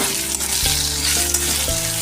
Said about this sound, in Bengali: এবার আমি যে আলুগুলো দেবো সেগুলো আমি ভেজে নিচ্ছি